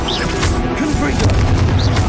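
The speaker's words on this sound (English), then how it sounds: "Confringo!" A Confringo blasting curse explodes in Hogwarts Legacy with a loud, dense boom and crash, layered over constant game noise, music and a shouted spell voice for the whole two seconds.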